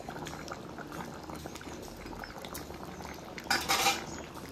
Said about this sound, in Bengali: এবার একটু ভালো করে নেড়ে দেবো, আর 10 মিনিট ফুটিয়ে নিলে মাছের ঝোলটা আমার রান্না হয়ে যাবে